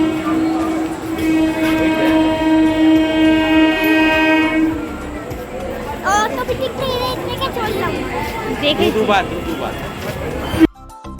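A Krishnanagar City local train pulls into platform one of a station. A loud, sustained horn sounds for about five seconds, then rolling rumble and clatter follow, with voices and a public announcement over the top.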